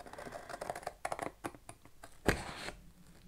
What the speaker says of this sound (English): I'm just going to cut them out with scissors